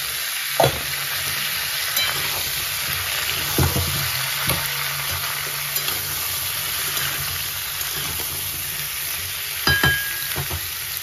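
Potatoes and pumpkin fry together in a pan, giving a steady close hiss with occasional soft knocks and clicks from stirring.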